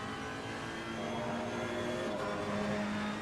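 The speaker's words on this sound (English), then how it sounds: "Here comes the Ferrari." A Ferrari GT3 race car engine drones loudly and steadily, its pitch climbing as it accelerates, sounding close with a continuous mechanical whine.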